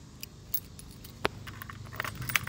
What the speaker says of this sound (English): I got so many keys on this key ring.